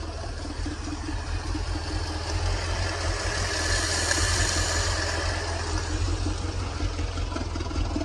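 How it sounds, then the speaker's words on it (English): A 1937 Ford Deluxe engine idles steadily with a low, even rumble and a faint mechanical hiss, close by and continuous, with no voices over it. "She's running 40 pounds oil pressure idling."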